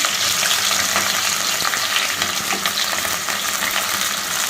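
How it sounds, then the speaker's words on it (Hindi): Spices and sliced karela (bitter gourd) fry in a pan with a loud, continuous hiss and bubbling sizzle, close and steady throughout, with faint crackles scattered through it and no talking. "फिर हमने मसाले में थोड़ा भूनने हैं। तो ये देखिए आवाज़ आई है ना आपको थोड़ी"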